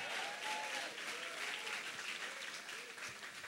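A church congregation applauds during a revival service, a dense, even wash of clapping from many hands that continues steadily with a few voices mixed in.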